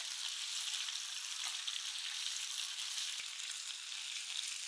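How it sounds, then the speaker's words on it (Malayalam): Chicken pieces frying in hot oil give a steady, dense, close sizzle that holds evenly throughout, with no voices. "ഇനി നമുക്ക് ഈ എണ്ണയിലേക്ക് തന്നെ നമ്മുടെ ചിക്കനൊക്കെ അങ്ങോട്ട് പെറുക്കിയിടാം"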